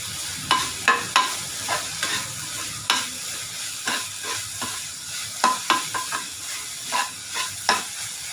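Chicken and onions sautéing in a pan for an Arabian labbai spicy chicken dish, a steady close sizzle punctuated by repeated scraping stir strokes at an uneven rhythm, with no talking.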